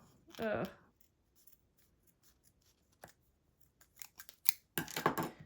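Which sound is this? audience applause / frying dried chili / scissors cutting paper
scissors cutting paper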